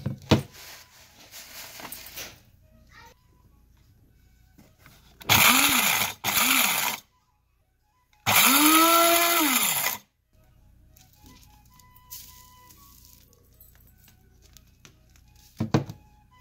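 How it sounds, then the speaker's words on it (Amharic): An electric grinder pulverising dried garlic and ginger in two loud whirring bursts, the second longer, with the motor pitch rising and falling, separated by quiet pauses and handling sounds. "ከዛ ወደ መፍጫ ያደርገዋለሁ።"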